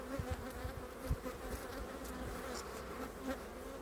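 Honeybees buzzing at beehives during colony balancing work, a steady dense hum of many insects close by with occasional louder passes near the microphone.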